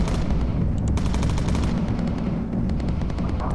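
Machine gun fire from the Bomber Crew video game rattles in loud, rapid, continuous bursts of close shots that fill the whole stretch without a pause.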